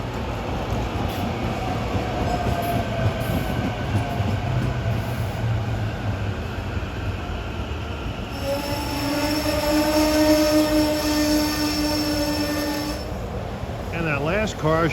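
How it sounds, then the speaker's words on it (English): A Trenton-bound regional commuter train pulls in on a Philadelphia-area line, rumbling steadily as it nears, then its wheels give a sustained, wavering metallic squeal for several seconds before it eases off. "We have a Trenton-bound train arriving at 7:26 with some good stuff."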